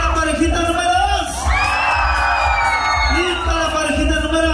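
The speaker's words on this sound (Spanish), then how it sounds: "Grito la parejita número dos." Loud, sustained crowd cheering at a contest in Houston, Texas, with whoops and shouted yells building into a long collective roar before falling back into mixed voices, in response to a call for the second couple.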